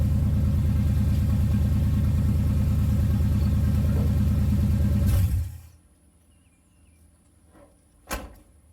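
An old Squarebody truck engine idles with a loud, steady low rumble for about five seconds, then shuts off into near silence, followed by a single sharp knock like a door or hood thud.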